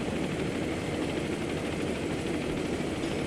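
A helicopter in Arma 2 throbs as a continuous, dense engine and rotor drone, steady and fairly loud with no talk over it.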